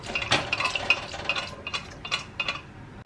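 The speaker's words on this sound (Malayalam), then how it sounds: "ഇനി നമുക്ക് ഇതിലോട്ട് നമ്മുടെ വേവിച്ച് വെച്ചിട്ടുള്ള ബീഫ് ചേർത്ത് കൊടുക്കാം." Cooked beef being added to a pan with a spoon while making Kerala beef varattiyathu, a series of metallic clinks and scraping stirs against the pan, close and moderately quiet, with no talking.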